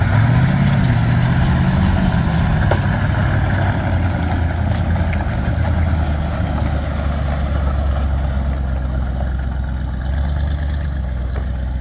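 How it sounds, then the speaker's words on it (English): A Bombardier snow vehicle's engine idles steadily while warming up, a loud, continuous low rumble with a slight pitch dip early on and no talk over it. "So he's just going to let it warm up here for a bit"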